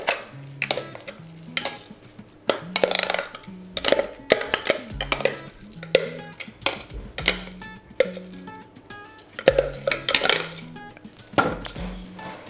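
Soaked buckwheat being mixed with minced chicken in a bowl, with clinks and scrapes of a utensil against the dish in an irregular rhythm, close and alone.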